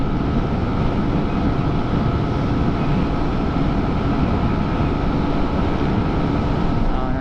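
Honda Sniper 155R motorcycle engine held at high RPM while riding, a steady loud drone mixed with rushing wind noise throughout.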